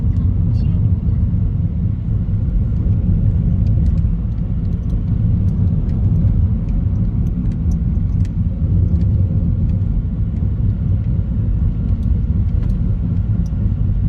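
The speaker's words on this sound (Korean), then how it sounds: "이런 길을 갈 때는 엔진 브레이크를 걸고 가야 되죠" A steady low engine rumble fills the whole stretch, loud and continuous, as a taxi engine-brakes down a steep hill, motor droning underneath, with voices faint in the background.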